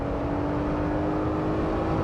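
A 2021 Jeep Gladiator's naturally aspirated 3.6 engine pulls steadily from inside the cab, a smooth, continuous drone with a faint rising tone and no break.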